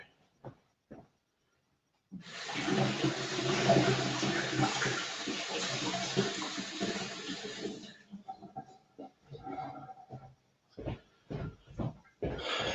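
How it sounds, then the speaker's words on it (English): Running water rinses a fine filter clogged with dragon fruit pulp, a steady close gush lasting several seconds, followed by scattered knocks and handling clatter. "I'm just going to rinse this because the fine filter is really clogged with the dragon fruit goop."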